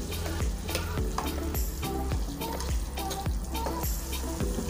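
Prawn pulav ingredients being mixed in a pot with ghee and yogurt: steady sizzling under a regular, rhythmic series of stirring strokes, close and moderately loud throughout.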